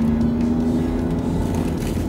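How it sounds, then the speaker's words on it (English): A car engine revs loudly and steadily up close, a sustained droning roar with a strong low hum that holds throughout. "So let's rev it up."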